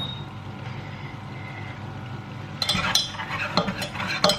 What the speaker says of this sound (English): whisk that together till it's smooth.